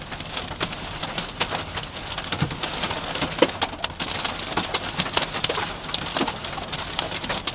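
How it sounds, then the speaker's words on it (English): Rain and hail lash down in a storm, a dense steady hiss punctuated by sharp scattered impacts, with strong wind gusting throughout and no talking. "we got some crazy, crazy wind and hail in here"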